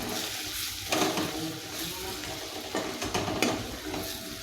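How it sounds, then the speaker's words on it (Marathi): Spices with chopped coriander and a pinch of asafoetida sauté in hot oil in a pan for potato rassa bhaji, hissing and sizzling steadily while a spoon scrapes and stirs in bursts. "आता हे सर्व मसाले दोन ते तीन मिनिट चांगले परतून घ्यायचे आहेत"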